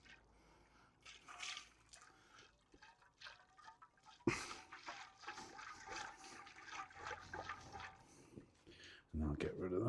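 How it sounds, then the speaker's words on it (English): Rinse water sloshing around inside a homemade wine container, a close, trickling, swirling liquid sound, with a louder rush and splash partway through and voices talking over it. "just give that a good slosh around."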